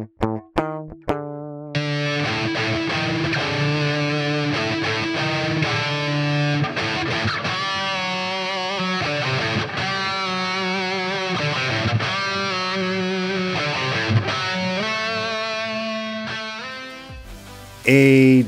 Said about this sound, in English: Reamp Studio R1 is an excellent, tight little package that does great guitar tones.